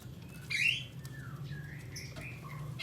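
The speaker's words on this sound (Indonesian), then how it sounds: "Kapas tembak ini untuk masteran murai juga" A kapas tembak songbird, kept as a tutor bird for training murai, sings a few bright chirping and whistled phrases over steady low background hum.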